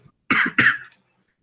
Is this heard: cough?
yes